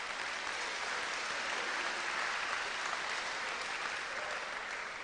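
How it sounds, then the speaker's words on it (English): An audience at the grand finale of Ghana's National Public Speaking Competition at PRESEC-Legon applauds in a dense, steady wash of clapping that holds at even strength throughout. "Oh, you can clap to that."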